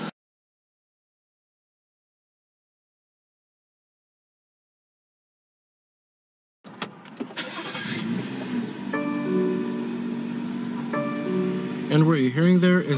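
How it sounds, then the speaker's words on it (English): A BMW 3-liter turbocharged six-cylinder engine cranks and fires after several seconds of silence, then settles into a close, loud idle with brief revs toward the end. "what you're hearing there is a 3-liter turbocharged 6-cylinder engine"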